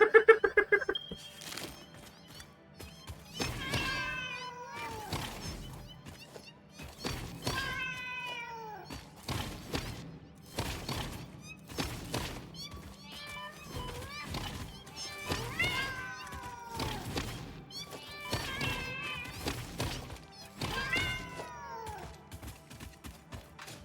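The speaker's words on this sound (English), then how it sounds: "God, the cats are so funny." Several cats in a factory-building video game meow again and again in rising, wavering cries, spread across the whole stretch amid steady thumps, clanks and game noises.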